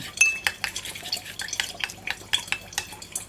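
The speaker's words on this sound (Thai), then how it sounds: "คนให้เข้ากันนะคะ" A spoon stirs a mixture of toothpaste and egg in a small dish, giving quick, irregular clinks and scrapes against the container, close up and fairly quiet with no one talking.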